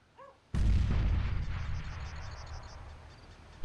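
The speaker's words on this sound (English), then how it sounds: "Throwing grenade." A grenade explodes in Counter-Strike: Global Offensive with one loud, close blast that rumbles and decays over a few seconds. A brief faint chirp comes before it.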